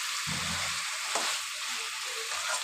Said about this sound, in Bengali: ধুয়ে রাখা চিকেনগুলো দিয়ে সুন্দরভাবে কষিয়ে নিব।